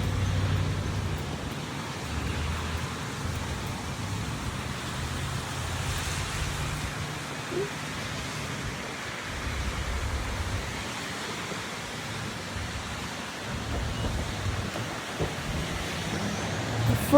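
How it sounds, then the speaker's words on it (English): Rain and wind outdoors during a tornado watch in northern Virginia, a steady broadband wash of noise with low gusty rumble and no clear breaks, continuous for the whole stretch. "Gonna open the umbrella because it's raining"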